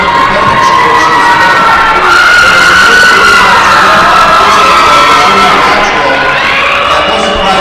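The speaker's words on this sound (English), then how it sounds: "Who are they clapping for?" A big crowd cheers and shouts at a high school boys basketball game in a gym in Utah, loud and continuous with children's shouts and whoops throughout.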